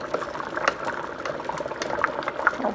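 Water with brown rice and quinoa simmers in a pot on a stovetop, a steady bubbling and hissing boil close by with scattered small pops throughout.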